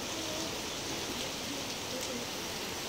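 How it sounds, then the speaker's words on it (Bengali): Early-morning rain falls steadily, producing a constant, even hiss of drops with no breaks and no voices. "ভোরবেলা থেকে বৃষ্টি হচ্ছে"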